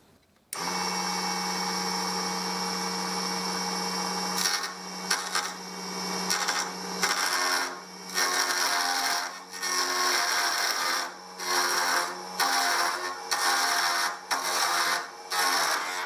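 A mini lathe's steady motor whine runs alone, then from about four seconds a handheld regular chisel bites the spinning wood in repeated rough scraping bursts with brief gaps between cuts.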